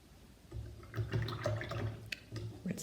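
Paintbrush swished and rinsed in a water jar between colours while painting spring tulips, giving soft intermittent sloshing and dripping close by, with low watery churning through most of the moment.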